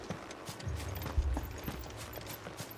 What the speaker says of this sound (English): I can hear massive booms, like footsteps